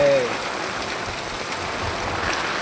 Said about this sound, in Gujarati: ભારે ભારે વરસાદ છે